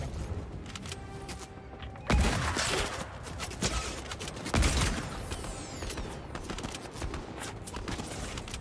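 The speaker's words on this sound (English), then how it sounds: "We're getting shot from the side." Gunfire in a shooting video game comes as scattered shots and short bursts, with two sharp louder cracks standing out against a steady mechanical clatter and background din.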